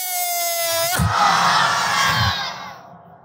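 A large crowd at a Bengali Islamic sermon roars the takbir in unison, a loud, sustained collective shout that swells after a single voice's call and then fades away.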